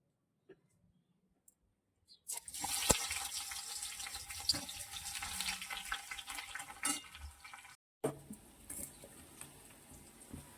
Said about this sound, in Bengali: আগে এই তেলটা গরম হয়ে গেছে, এর মধ্যে পেঁয়াজ কুচি দেবো।